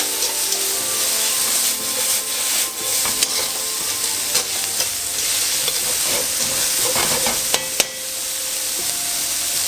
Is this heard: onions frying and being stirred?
yes